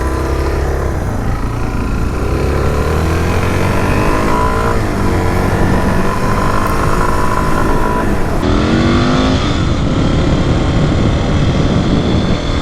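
A Suzuki DR650 performance-build motorcycle engine runs loud and close, revving up and down in rising and falling sweeps, with a brief shift in tone near the end.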